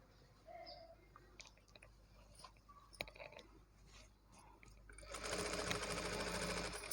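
A sewing machine stitches a blouse, quiet clicks and taps at first, then a sustained loud whirring run of rapid stitching near the end.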